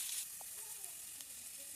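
Chopped onion frying in a pan over a wood-fired chulha, giving a steady soft sizzle throughout with a brief louder burst at the start and a few faint stir sounds.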